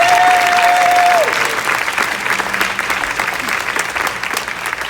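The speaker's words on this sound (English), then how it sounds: "So can we give the servers just a round of applause?" Banquet guests at the House of Blues give the servers a round of applause, with loud, close crowd clapping that fades slightly as it continues.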